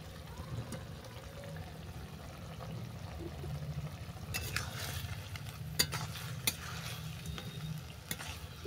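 A fried fish head, chopped tomato and flattened rice are stirred together in a pan, producing a continuous soft scraping and low sizzle with occasional clicks of the utensil, close and moderately quiet.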